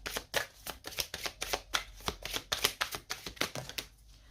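Oracle cards being shuffled by hand, a quick run of about a dozen crisp riffling snaps in even rhythm, close and soft, ending with a brief quieter rustle as a card is drawn.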